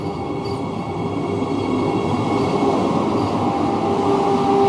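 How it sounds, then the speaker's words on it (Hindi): Vande Bharat Express train pulling out of Bhopal toward Delhi, a steady rumbling rail roar that grows a little louder midway, heard alone without talk. "और ये दिल्ली के लिए रवाना वंदे भारत एक्सप्रेस"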